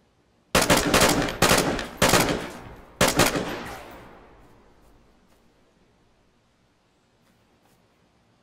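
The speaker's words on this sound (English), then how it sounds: "Oh, someone else is shooting now." Four loud gunshots from the video game DayZ Standalone, set in Chernarus, cracking at irregular intervals in the first few seconds, with the last one trailing off into a long echoing decay before near silence.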